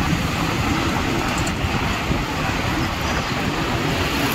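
Early-morning street ambience at Jafrabad metro station in Delhi: a steady, loud rumble of traffic and passing trains, with no clear voices.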